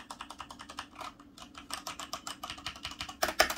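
Keys clatter on a Corsair K70 mechanical keyboard in a fast, steady stream of close, crisp clicks, growing heavier and louder toward the end, with no talking.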